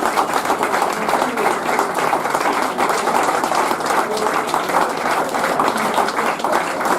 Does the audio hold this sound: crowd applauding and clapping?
yes